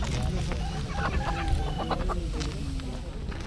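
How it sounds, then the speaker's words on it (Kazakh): Chickens cluck close by in short, busy bursts amid a noisy background at a spring poultry market. "Мінеки ағайындар, дәкен тауықтар."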